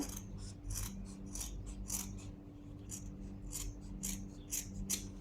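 Scissors snip through petticoat fabric around the neckline, a close series of crisp, rhythmic cutting strokes with light rasping blade noise, about ten cuts with no talking.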